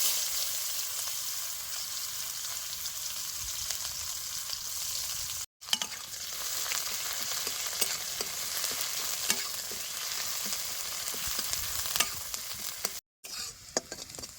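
Steady crackling sizzle of finely chopped onion frying with cumin in hot oil, continuous and close, with two brief dropouts and faint stirring scrapes.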